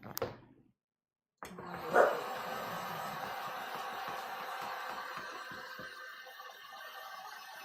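A nervous pup lets out a short bark at the start, then another sharp bark rises over the steady loud hiss of a heat gun running close by.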